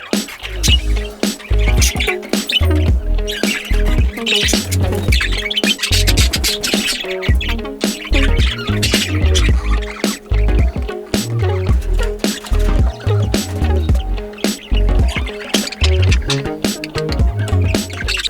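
Pet budgies and a newly added bird chirp and squawk together, with busy, overlapping calls and scratchy sounds continuing throughout at close range with no talking.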